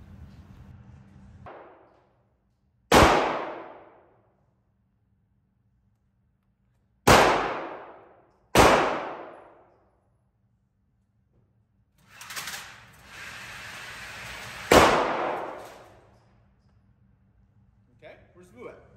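Real firearms fired at paper targets on a shooting range in the United States: four loud, sharp, separate shots with ringing decays, plus a muffled burst of noise near the end and soft voices at the start.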